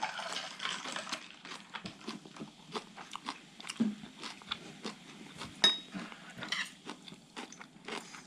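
Tender boiled pork bossam eaten with oysters, chewed close to the mic in a steady run of soft wet bites and small crunches, with occasional faint clinks of cutlery and no talking.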